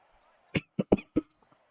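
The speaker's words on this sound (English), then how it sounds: "It's a loud cough." A man gives a loud, close cough in a quick burst of four sharp hacks, followed by a faint rasp, with near-silence before and after.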